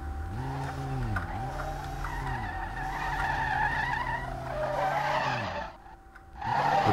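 A BMW E34 drift car's engine drones steadily in a video game while tyres on not-yet-warmed rubber squeal and skid through a long sweeping turn, the pitch dipping and rising as the car drifts.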